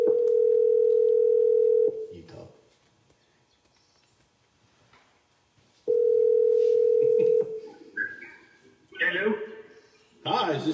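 A telephone gives two long, steady ring tones separated by a quiet gap, followed by faint chatter and a voice picking up the call.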